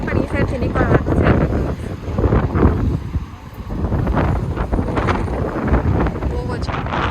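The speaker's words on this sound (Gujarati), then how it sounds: "બહુ જ પવન છે આજે" Strong gusts buffet the microphone on a windy street near a Colombo metro station, a loud rumbling roar rising and falling while a person talks over it.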